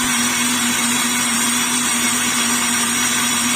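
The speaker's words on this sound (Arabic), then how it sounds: "هنحط اللبن، واخدين بالكم، وهضربه شويه كده" A mixer whirs steadily as it beats eggs with vanilla and milk for a chocolate cake batter, a loud continuous motor drone with no pauses and no talking.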